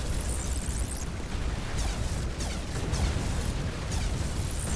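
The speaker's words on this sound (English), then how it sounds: "As they all explode right on top of us." Bombs from an air raid burst overhead in the Taur video game, a dense, continuous roar of explosions with repeated close blasts layered over heavy low rumble for the whole stretch.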